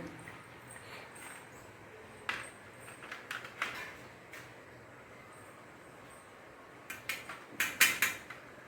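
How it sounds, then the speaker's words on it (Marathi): Oreo biscuits being crushed into crumbs in a bowl, heard as soft crackling crunches in two clusters, a few at first and then a quicker, louder run near the end, over a quiet background. "आता इकडे पूर्ण बिस्किटाचा चुरा चुरा करून घेत आहे"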